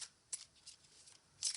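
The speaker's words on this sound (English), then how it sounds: "So I'm going to do some more shuffling" Playing cards being shuffled by hand, a few short riffling bursts with brief pauses between them, close and fairly quiet.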